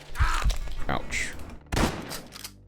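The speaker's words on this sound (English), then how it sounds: "Shooting at me from out of sight." Enemy gunfire in Quasimorph, a few sharp, close shots and short bursts with heavy low thumps, separated by brief gaps.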